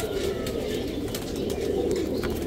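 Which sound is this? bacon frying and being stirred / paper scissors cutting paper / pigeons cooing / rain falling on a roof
pigeons cooing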